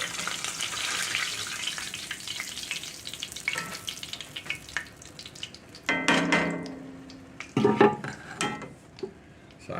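Chicken livers deep frying in hot oil, a steady crackling sizzle throughout with a few louder bursts of bubbling and spattering toward the end, close and alone without talk.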